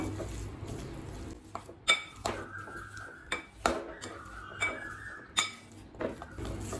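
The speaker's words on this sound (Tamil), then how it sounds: "இப்போ இது நல்லா மேஷ் பண்ணிக்கலாம்" Boiled potatoes and peas being mashed in a bowl for pav bhaji: a series of sharp metallic clinks and taps as the masher strikes the bowl, spaced irregularly over quiet background, close by and with no talk.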